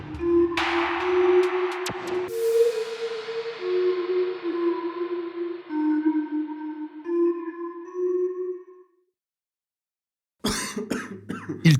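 A man who has been seriously ill for months gives a short burst of harsh, close coughs near the end. Before that come a sustained eerie tone and a stretch of silence.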